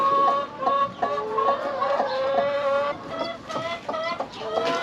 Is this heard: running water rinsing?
no